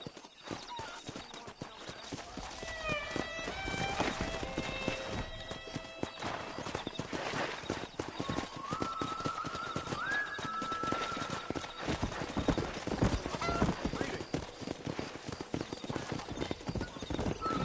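Horses gallop with rapid hoofbeats amid Red Dead Redemption game sound effects and a horse whinnies, with steady busy activity throughout.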